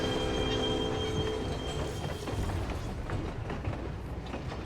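A haunted train in Final Fantasy XIV's Omega Sigmascape raid rumbles and clatters with squealing wheels, a loud continuous rolling din that gradually thins out.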